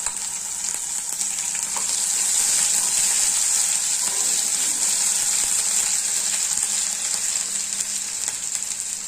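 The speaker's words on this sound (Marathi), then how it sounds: "आणि छान शिजू द्यायचा मसाला तेल सुटेपर्यंत" Ground methiamba masala frying in oil, a loud continuous hiss and sizzle close by that holds steady without pause and carries no speech.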